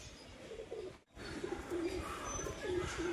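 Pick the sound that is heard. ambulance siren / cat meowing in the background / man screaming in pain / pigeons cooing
pigeons cooing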